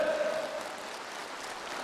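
Congress participants applaud and cheer in a large hall, a dense, steady wash of clapping from many hands that holds for the whole short stretch, with a faint voice at the very start.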